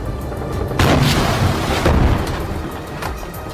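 A heavy explosion from a building being blown up in a war zone, with a deep boom and broad rumbling debris noise, followed by further fainter blasts rolling through a continuous low roar.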